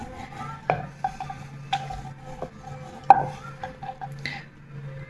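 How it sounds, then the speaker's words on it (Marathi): Puri dough is rolled out with oil under a rolling pin, making soft rubbing strokes broken by sharp clicks and knocks of the pin on the board, close and alone. "अशा पद्धतीने आपण सर्व पुऱ्या लाटून घेऊ।"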